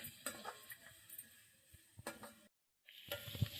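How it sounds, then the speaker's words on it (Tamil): Coriander and curry leaves sauté in hot oil for a fish curry, making a steady close sizzle with light stirring scrapes; the sound drops out briefly before it returns. "கொஞ்சம் கொத்தமல்லியும் கருவேப்பிலையும் போட்டுக்கலாம். நல்லா கொஞ்சம் வதக்கி விடலாம்."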